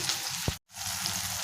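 Onions frying in a pan with mustard seeds, fennel, cumin, chili and garlic give a steady hiss of sizzling, broken by a brief clatter and a moment of silence.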